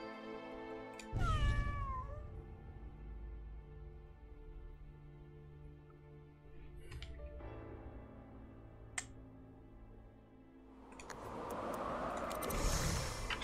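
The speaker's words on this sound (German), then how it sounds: "Ich stelle eine Katze hin." A cat meows in the strategy video game Legion TD 2, one clear meow near the start followed by quieter game sounds and a brighter burst at the end.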